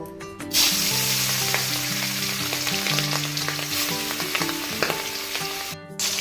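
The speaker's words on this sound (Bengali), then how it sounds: "তেল গরম হয়ে গেলে আমরা মাছগুলো ভেজে নিব।" Pieces of hilsa fish coated with turmeric and salt fry in hot white oil in a kadai, giving a loud, steady sizzle that runs through the whole stretch over soft melodic background music.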